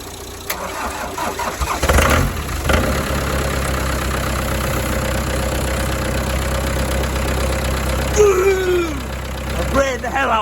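A 1990s Ford Transit 2.5 DI turbo diesel engine cranks and catches, then settles into a loud, rough, knocking idle that runs on steadily close by, while a person speaks over it at moments.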